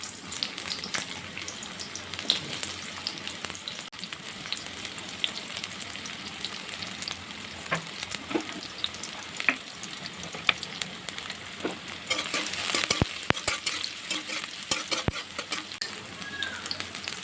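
Chopped onion frying in hot white oil while being stirred, a steady close sizzle with scattered scraping stir strokes and a few sharper clicks near the end, no talking.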